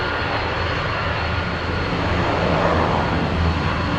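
A Kalitta Boeing 747 Dreamlifter on short final at Anchorage, heard as a steady, loud broadband engine roar that builds slightly toward the end, with no voices over it.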